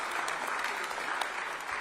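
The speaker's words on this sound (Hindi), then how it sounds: "मैं चाहूंगा एक बार आप तालियां बजा करके आपका स्वागत करें।" Sustained audience applause welcoming a Bollywood singer as chief guest, a dense steady wash of many hands clapping at an event, moderately loud with no voices standing out.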